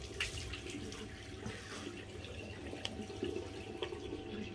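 Tap water runs steadily to rinse a King C Gillette safety razor at a bathroom sink, a continuous close splashing hiss with faint drips and no talking.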